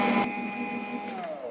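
An electric mixer with paddle attachments beats peanut butter frosting, giving a steady close whine with a sustained tone that dips in pitch near the end, with no talk over it.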